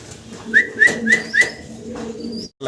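A pair of leg-feathered fancy pigeons coo up close, giving four short bright notes in a steady rhythm over a low continuous murmur, with no talk.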